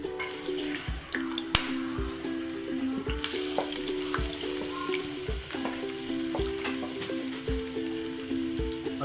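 Garlic sizzles in a cup of hot oil in a wok, starting a kadu gosht. A loud, steady frying hiss runs close-up, punctuated by repeated scraping stirs and sharp clicks, with no talking.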